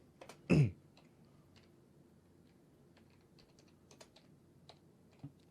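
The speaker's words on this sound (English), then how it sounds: "Typing, the sound of typing." Soft, scattered clicks of typing on a computer keyboard, faint and irregular, with one louder knock near the start.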